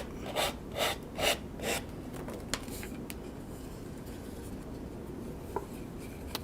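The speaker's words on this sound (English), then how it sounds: "So you just want to lightly sand around to kind of clean it up." Light sanding of the edges of a craft storage container: four quick rasping strokes up front, then quieter scattered rubbing and ticks, close and alone without talk.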